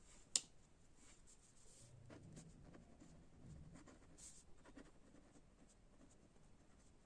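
Pen writing on paper during an accounting lesson, with a soft scratchy scribble running quietly throughout and one small sharp tap near the start.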